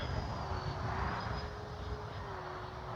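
A Dynam Me 262 RC jet plane flies with a steady whine, a broad roaring hiss and a thin sustained high tone, loud and constant throughout.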